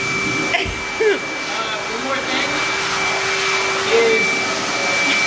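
A pet grooming dryer blows with a steady loud whooshing roar and a constant high whine, running throughout while a person speaks briefly over it.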